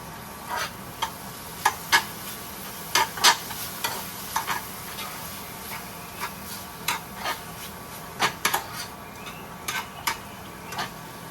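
Biryani chicken fries in a pan with a soft steady sizzle, while a utensil scrapes and taps against the pan in irregular strokes, close and moderately loud.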